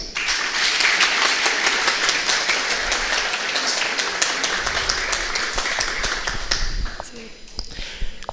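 An audience at a philosophy congress breaks into steady, dense clapping that stays strong throughout and tapers slightly near the end, with a voice talking over it.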